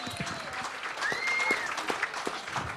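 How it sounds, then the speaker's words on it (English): A game-show studio audience claps steadily for the contestant couples, a moderate round of applause heard throughout with no one speaking. "A round of applause for them so far"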